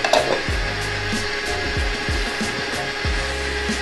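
An electric hand mixer whirs steadily through cream cheese and icing sugar in a bowl, a continuous buzzing drone with repeated dull knocks and scrapes as the beaters hit the sides.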